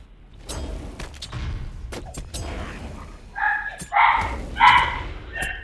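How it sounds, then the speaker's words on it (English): Three small rescue dogs barking in the background, several short yapping bursts in the second half, fairly close and fairly loud with no talk over them. "Sorry for the dogs in the background."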